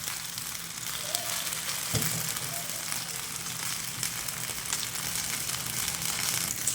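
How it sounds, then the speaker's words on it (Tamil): Fish frying in oil for a fish curry: a steady, fairly loud sizzle and crackle that runs throughout, with an occasional soft clunk and no talking. "மீன் பொரிச்சிச்சு நல்லா தரமா"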